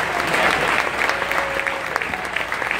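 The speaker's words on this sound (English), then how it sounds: "please clap your hands one time." A short burst of audience clapping at an award ceremony for a 25th-anniversary event, scattered hand claps over a murmuring crowd with no clear speech.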